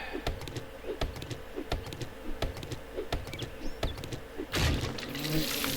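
Buzzing bees in the survival video game 7 Days To Die, a steady insect drone under sharp repeated clicks and taps, ending in a louder burst of noise near the close.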